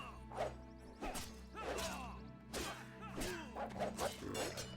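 A dog barks and yips repeatedly amid whacks and crashing hits during a fight scene in the video game Fable 3, over a steady game soundtrack.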